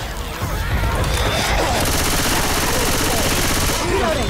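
Sustained rapid gunfire in Left 4 Dead 2, a dense continuous fusillade of automatic weapons fire with crashing impacts, loud throughout, with voices shouting faintly underneath.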